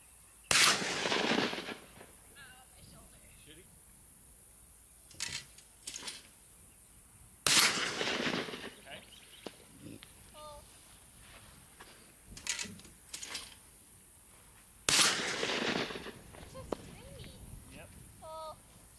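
Three loud, sharp gunshots at an outdoor shooting range, spaced about seven seconds apart, each with a short ringing decay, with quiet talk and small handling sounds between the shots.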